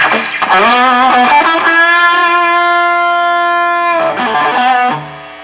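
An electric guitar plays through a Fender Hot Rod Deluxe III amp on high gain, giving loud distorted sustained notes and chords that ring out then cut off near the end, close and alone.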